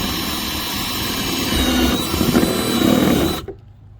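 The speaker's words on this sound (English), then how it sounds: "I'll try to start drilling there." A power drill whines steadily as it bores into the plastic hull of a Perception Outlaw 11.5 kayak for a hatch install, the pitch straining and wavering under load before the motor cuts off abruptly.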